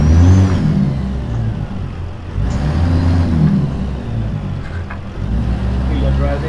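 A heavy truck engine in American Truck Simulator drones steadily after a shift into first gear. It rises and dips in a few rev swells and stays loud and near throughout.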